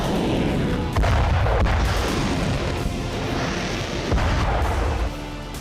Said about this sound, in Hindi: ये हमला यूक्रेनी सेना के ठिकानों पर हुआ है। जगह है पोक्रोवस्क, जहां एमएलआरएस से हमले किए गए हैं।